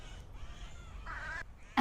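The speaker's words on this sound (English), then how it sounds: "I genuinely think I was just witnessing lots of birds having a fight" Birds squabble in a bush with a harsh, raspy call near the middle and a sudden sharp cry at the very end, over steady background noise.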